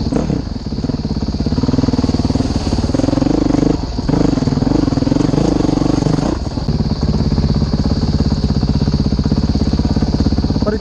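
A modded 2011 Honda CRF 450X dirt bike on a trail ride, its engine loud and close with a steady pulsing thump, briefly revving and easing off midway, with some rattling clatter throughout.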